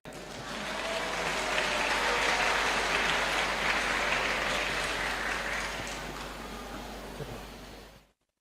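Sustained applause from a large audience, steady and full for several seconds before cutting off abruptly.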